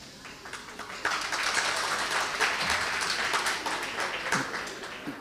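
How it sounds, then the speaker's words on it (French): An audience bursts into applause, clapping swelling after a quiet start and then continuing steadily at moderate volume with scattered individual claps. "Les applaudissements mérités."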